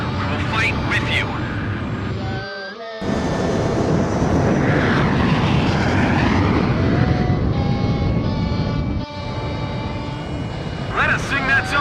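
Fighter jet engines roar continuously in the Ace Combat 5 video game, a loud, sustained airplane drone with a brief dropout, while radio voices talk over it.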